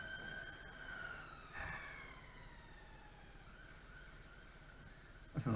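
An ambulance siren wails past on an Edinburgh street near a large hospital, its tone sliding downward as it goes by, fairly loud over steady traffic rumble, ending with a sharp nearby knock.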